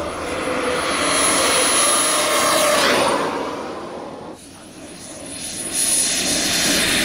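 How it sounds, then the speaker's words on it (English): A jet turbine engine mounted on an R/C truck runs loud and steady, a roaring broadband whine with a high tonal whistle on top. It dips briefly partway through, then surges back to full strength. "Got the turbine running, but man, it burns so much fuel so quickly."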